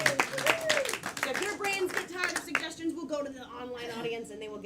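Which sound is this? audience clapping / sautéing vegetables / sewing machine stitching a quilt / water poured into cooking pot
audience clapping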